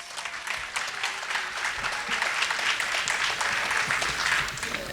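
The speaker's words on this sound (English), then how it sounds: "Give yourself a round of applause." Applause from a summit audience, a steady broadband patter of many hands clapping at moderate volume throughout, with a few voices faintly underneath.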